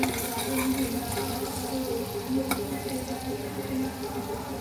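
Onions sizzle and fry steadily in a pan with a little salt, a continuous close, even crackle with occasional stirring, no talk over it.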